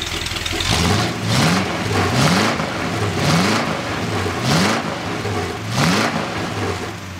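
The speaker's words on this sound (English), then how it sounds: "Wait, really rev it up." A 440 HP engine at its first start-up, revved hard in repeated bursts over a low idle, with about six loud rising swells spaced roughly a second apart, close and dominant with no talk.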